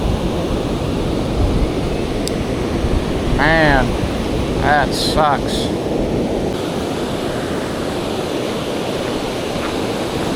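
Ocean surf on a Jacksonville, Florida beach washes in steadily under strong wind, with someone speaking briefly partway through and a few high whistling tones overhead.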